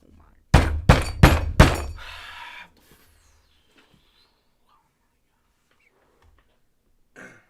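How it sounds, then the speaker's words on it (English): A hand smacks a desk four times in quick succession, loud close thumps followed by a brief rattling clatter, then near silence with only a faint noise at the end. "smacked the desk"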